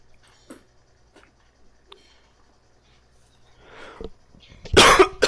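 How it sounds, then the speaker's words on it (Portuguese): A man gives a sudden burst of coughing near the end, loud and close, after a few seconds of quiet breathing and a throat-clearing rasp in a podcast studio. "O cara fica tossindo toda hora, cara."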